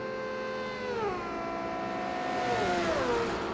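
LaFerrari engine in the racing game Project CARS 2, a thin, tinny, electric-edged tone that sweeps downward as revs drop, then climbs and falls again, steady and close throughout.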